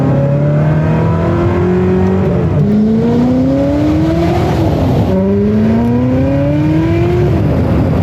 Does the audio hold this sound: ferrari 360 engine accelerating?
yes